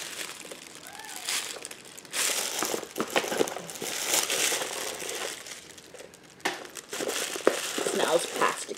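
Plastic packaging from a Morphe x Lisa Frank brush set crinkles and crunches in bursts during unpacking, close and fairly loud, with short pauses between handfuls.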